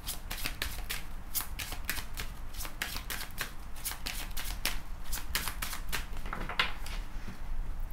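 A deck of tarot cards is shuffled by hand, a quick run of soft riffling flicks and slaps at close range, steady and fairly quiet with no talking.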